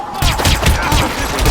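Loud, dense gunfire from the video game Hitman Absolution, a rapid fusillade of overlapping shots and impacts filling the moment without a break.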